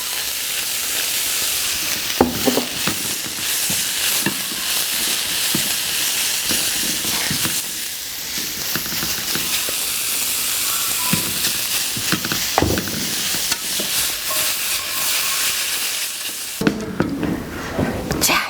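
Sliced mushrooms stir-frying in a little oil in a hot pan: a steady, close, loud sizzle and hiss that runs throughout, with occasional scraping and stirring knocks.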